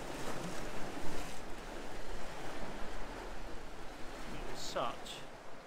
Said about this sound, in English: the backwash when it hits these rocks is pulling it out